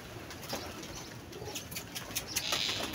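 Pigeons coo softly nearby, with occasional light wing flutters and scattered clicks over a quiet background.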